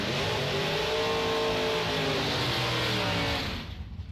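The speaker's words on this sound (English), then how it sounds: "Pulling in now, we got Matt Cheney, left lane, 604." Drag racing cars pull into the starting lanes at a bracket race, one a Roadster S10, their engines revving loudly in a thick, rising and falling roar that fades away toward the end.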